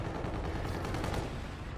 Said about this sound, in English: I'm getting shot at, dude.